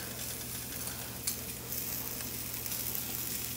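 Chicken browning in a frying pan as onion is added, a dense continuous sizzle with a brief clatter partway through, close and steady without speech.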